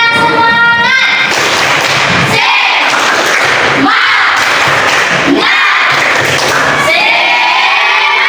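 A classroom of schoolchildren performs a rhythmic energizing clap routine, loud bursts of group clapping and chanting in distinct phrases with a teacher's voice heard before and after.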